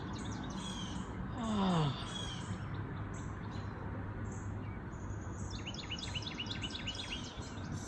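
Morning birdsong from wild birds outdoors, with scattered chirps and a quick trill of repeated notes at moderate distance, as a woman briefly exclaims once.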